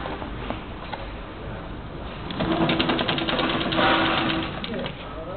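A Vacuumatic TCF friction feeder separates and counts whisky labels, giving a steady mechanical whirring with rapid ticking that grows busier midway, running continuously and fairly close.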